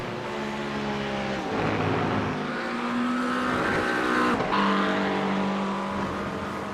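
GT3 race cars lapping a circuit late in an hour-long race, engines droning steadily with shifting pitches as several cars pass, a dense continuous roar heard from a distance with no voices.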